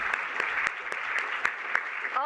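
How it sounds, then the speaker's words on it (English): Scattered audience applause at an agency innovation event, with sparse individual claps standing out over a steady wash of clapping, moderately loud and without talk. "Can we give them a round of applause,"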